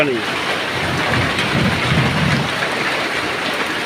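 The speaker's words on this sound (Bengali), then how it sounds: "দেখেন বৃষ্টির তীব্রতা, পানি নেমে কুলাচ্ছে না" Heavy rain pours during village flooding, a dense roar of rainfall with low rumbling that fits thunder, loud and close throughout, with no clear voices.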